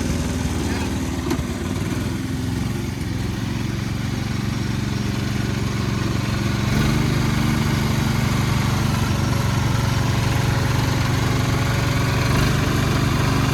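A diesel-swapped 1970s Sears lawn mower engine idles with a loud, constant rough chug and rattling vibration, close by throughout.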